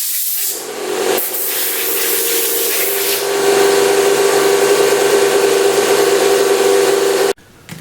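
An air compressor running steadily for spray painting Aluma Hyde onto an AR-15 receiver, a loud continuous hiss and hum that swells slightly midway before cutting off near the end.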